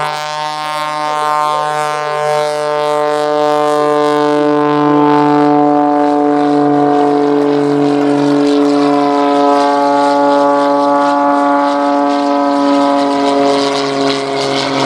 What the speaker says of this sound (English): World champion RedBull Air Race pilot Kirby Chambliss goes right into the Cobra launches.